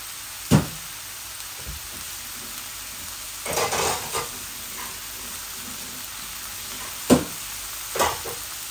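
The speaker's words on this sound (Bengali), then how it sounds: "এই যে শুধু নাড়াচাড়া করবো এগুলাকে, আর কোনো পানি দেব না।" Mixed vegetables, bottle gourd peel, cauliflower stems and carrot with chilli and spices, frying dry in a pan over a faint sizzle, with a handful of distinct stirring scrapes and clatters spread across the stretch.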